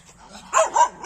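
A dog gives three quick, close barks in a row after a brief quiet moment.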